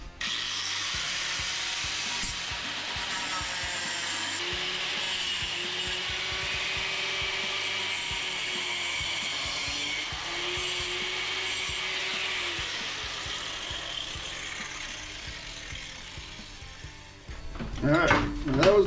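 A loud, steady grinding-cutting noise from cutting the head off a metal rivet on a snowblower runs for about seventeen seconds, high and gritty, then cuts off into a burst of clattering handling noise at the end.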